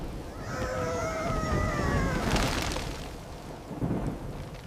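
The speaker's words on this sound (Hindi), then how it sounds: "तेज आंधी और बारिश की बौछारें दरख्तों को झुका रही थीं। अचानक एक बहुत बड़ी बिजली गिरी।" Cartoon thunderstorm with heavy rain and a lightning strike: a steady roar of pouring rain, a few rising whistling tones early on, then a loud crackling crash of thunder in the middle before the downpour continues, with no talking.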